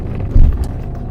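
A Maruti Swift hatchback climbs the steep, avalanche-prone mountain road of Changla Pass. Its low engine rumble and road noise hold steady, swelling briefly louder partway through, close and with no talking.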